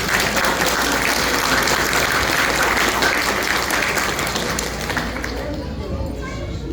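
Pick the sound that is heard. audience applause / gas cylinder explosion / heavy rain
audience applause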